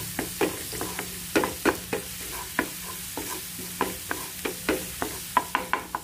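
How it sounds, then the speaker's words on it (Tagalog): Garlic fries in a hot pan with a soft sizzle, while a utensil stirs and scrapes in repeated light taps throughout, fairly quiet and close. "Ilagay ko yung bawang. Mauna ko ilagay yung bawang kaysa butter kasi masunog kasi ang butter."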